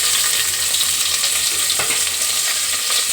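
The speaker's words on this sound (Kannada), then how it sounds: "ಎಣ್ಣೆ ಬಿಸಿಯಾಗಿದೆ. ಇವಾಗ ಇದಕ್ಕೆ ಸ್ವಲ್ಪ ಸಾಸಿವೆ, ಹಾಗೆ ಆಗಲೇ ಒಗ್ಗರಣೆಗೆ ಇಟ್ಕೊಂಡಿರುವಂತಹ ಐಟಮ್ ಹಾಕೋತೀನಿ. ಈರುಳ್ಳಿ ಹಾಕೋತಿದ್ದೀನಿ." Mustard seeds and onions frying in hot oil as a tempering for vegetable sambar, a steady close hiss of sizzling with faint crackles and a brief stir, no voices.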